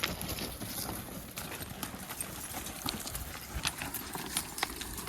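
Steady clip-clop of draft horse hooves plodding along at a walking pace while plowing a field, close by, with soft outdoor noise and faint plow equipment rattle behind.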